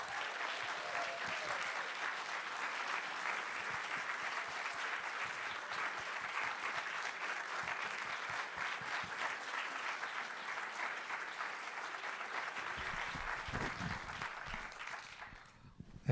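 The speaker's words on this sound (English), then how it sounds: "Let's please have another huge round of applause, please, for Pope Francis, a man of his word." An audience at a film Q&A applauds director Wim Wenders as he is introduced, steady crowd clapping that holds evenly for a long stretch before thinning out near the end.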